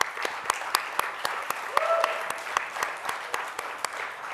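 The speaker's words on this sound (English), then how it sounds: "deserves the wild applause of the staff" Audience applause at a fundraising dinner, with sharp, distinct claps repeating steadily and fairly loud across the room, without a break.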